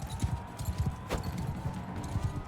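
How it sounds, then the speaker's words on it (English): A horse galloping in the video game Mount and Blade Bannerlord, with rapid rhythmic hoofbeats at moderate volume over a steady background hum and one brief sharp crack midway. "Alright, well there goes my horse."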